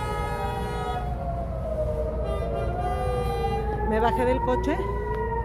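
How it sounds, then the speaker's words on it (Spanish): Air raid siren sounding in Tel Aviv, a long wailing tone rising and falling steadily over street ambience, with someone speaking over it. "Estoy en Tel Aviv y está sonando la sirena."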